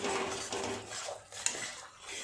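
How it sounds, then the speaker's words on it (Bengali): Spoon scraping and stirring spice paste with whisked yogurt in a pan while frying a fish curry, soft continuous scraping with one sharp clink of metal, faint and close. "দু চামচ ফেটিয়ে রাখা টক দই ভালো করে সমস্ত মশলা এইভাবে কষিয়ে নেব পাঁচ সাত মিনিট সময় নিয়ে"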